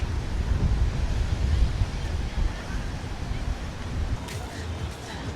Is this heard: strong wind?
yes